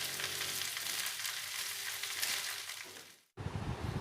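Schezwan pasta cooks in a pan with two sauces and pasta masala, giving a steady close sizzle that briefly cuts out, then returns crackling.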